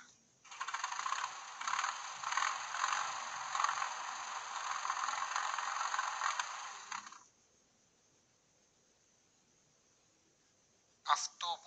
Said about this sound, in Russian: Трактор.